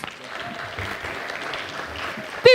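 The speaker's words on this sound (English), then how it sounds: "let's give her a thunderous hand clap" Audience applause at a literacy conference awards ceremony, a steady wash of clapping from a crowd lasting a couple of seconds, with a brief louder sound at the very end.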